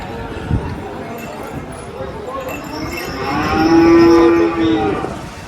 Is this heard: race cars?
no